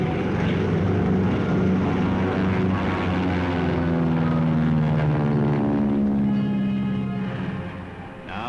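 B-29 bomber propeller engines drone loudly and steadily with a deep, throbbing hum that holds for several seconds before easing slightly near the end, with no voices.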